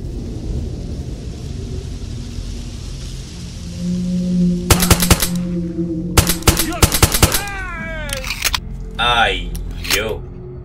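Bursts of gunfire in the video game S.T.A.L.K.E.R.: Shadow of Chernobyl, several sharp volleys and single shots crackling loudly over ambient game sound, with a few whooshing effects near the end.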